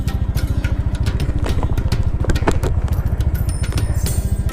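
A motorcycle ridden on an upland nature trail near Naga City, suited to rough terrain, gives a steady close-up engine drone with a fast, even pulse throughout, a little wind and rattle on top.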